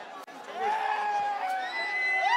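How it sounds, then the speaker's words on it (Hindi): Large crowd at a political rally, a dense mass of overlapping voices with raised shouts and calls rising and falling, loud and close without letup. "इतनी ज्यादा भीड़ हो गई, आने की जरूरत लगती थी कि इतने लोग आ जाते"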